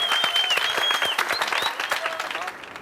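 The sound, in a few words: class applauding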